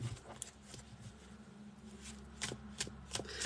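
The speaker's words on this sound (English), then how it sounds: "I just shuffle and you do what you need to do." A deck of tarot cards is shuffled by hand at close range, a soft, steady riffling patter that rises into crisper bursts toward the end, with no voices.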